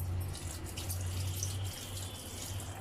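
A kitchen tap runs steadily into a sink while fish is washed under it, a quiet continuous splashing stream with no speech.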